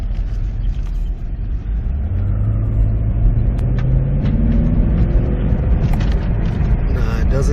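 A 2015 Chevy Camaro stuck in second gear with a transmission hard-shift limp-mode fault accelerates, its engine droning steadily and rising in pitch as it revs, loud and close inside the cabin.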